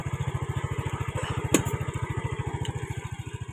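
A Yamaha Mio Fino scooter engine runs close by at a steady, rapid putter, with one sharp metallic click partway through.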